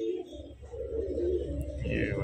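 Pigeons cooing in a pair of domestic birds being handled, soft low throaty coos close by with faint background noise, a voice talking over them.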